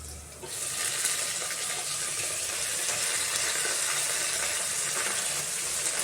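Chopped amaranth greens drop into a hot frying pan and sizzle steadily, a loud, dense hiss that swells at once and holds evenly without pause.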